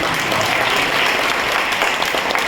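Canned applause effect played over the PA at a Brahma Kumaris spiritual talk: a dense, steady wash of many hands clapping, loud and continuous throughout with no gaps.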